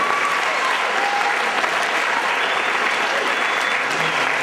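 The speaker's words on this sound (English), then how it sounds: "Let's give an applause for Mr." An audience applauds a world-music drum performer in a steady, dense wash of clapping that holds at an even level throughout, fairly loud, with a faint whistle or tone lingering in the background.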